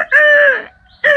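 A person imitates a rooster crowing, a loud drawn-out vocal crow followed by a short pause and the start of another call.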